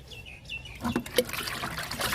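Kitchen waste liquid fertilizer poured onto a potted plant, a faint trickling, splashing dribble that starts about a second in and runs steadily under quiet background sound, with no talking.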